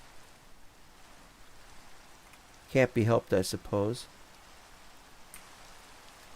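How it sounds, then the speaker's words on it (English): Steady rain falling in a Lord of the Rings video game, a soft continuous patter throughout, with someone speaking briefly over it midway. "Oh no, more rain."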